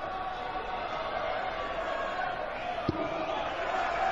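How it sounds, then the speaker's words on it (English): Darts crowd at the 2015 World Matchplay semi-final between Phil Taylor and James Wade, a steady roar of massed voices chanting and shouting from the arena, with one sharp knock partway through. "The crowd shout about Phil Taylor."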